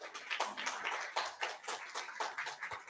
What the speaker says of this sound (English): Give applause, ladies and gentlemen.